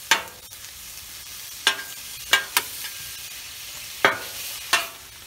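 Thin sliced potatoes sizzle on a Blackstone griddle under a steady, soft hiss, broken by half a dozen sharp scraping clacks of a spatula stirring them, close and alone.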